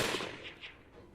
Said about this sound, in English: placid silence was shattered by the echo of gunshots from below our peaceful knoll